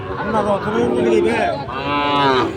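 A Sahiwal breed calf moos repeatedly at the Ambari cattle market, loud and close, with long drawn-out calls in a busy livestock setting.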